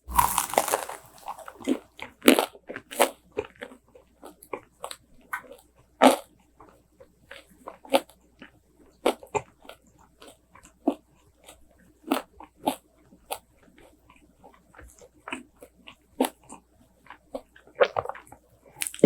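Crisp, close crunching bites and chewing of oven-toasted carrot rice cake, irregular loud snaps and crackles separated by short quiet gaps, with no talking.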